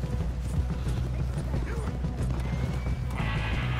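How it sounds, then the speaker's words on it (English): Horse hooves clip-clop at a gallop in the video game Red Dead Redemption 2, a steady rapid rhythm under game ambience and a brief whinny-like cry, with faint talk in the background. "We're just gonna sort of run away on a horse"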